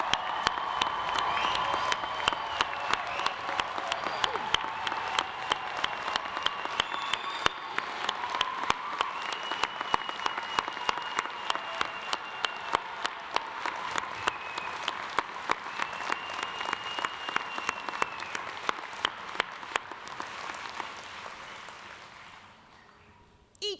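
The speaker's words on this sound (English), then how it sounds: "Will everyone join me in giving these graduates one more round of applause?" Graduation ceremony audience applauding graduates at a commencement, a long sustained roar of many clapping hands with some cheering, steady for about twenty seconds before tapering off toward the end.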